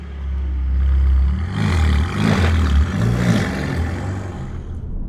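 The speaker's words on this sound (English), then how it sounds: "Let's head out now and let me show you just how good the GT Black now sounds." A Mercedes-AMG GT Black Series with an aftermarket exhaust drives past. A deep, loud engine roar swells, then a rushing surge rises in the middle and fades toward the end, with no talk over it.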